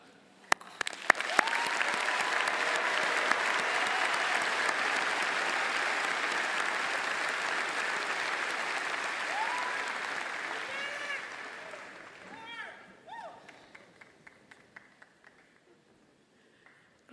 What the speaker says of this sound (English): Please join me in saluting and applauding these new alumni.